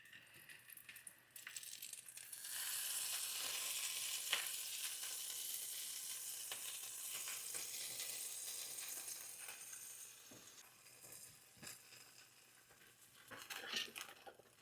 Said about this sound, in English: So now we're just going to put on our quesadillas.